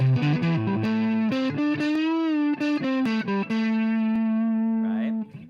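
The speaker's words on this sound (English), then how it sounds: "Distortion is going to have more of this sound to it." Distorted electric guitar plays a hard rock phrase, a run of short choppy notes giving way to sustained, slightly bending held tones, loud and alone with no talk.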